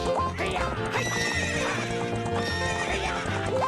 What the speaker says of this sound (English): This is my horse now